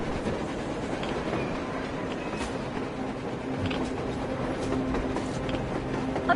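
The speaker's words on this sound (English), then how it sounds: "A train! A damn train on the surface!" A train rumbles across a snowy surface in the Metro Exodus video game, a steady dense clatter of wheels and machinery that holds at a constant level throughout with no voices.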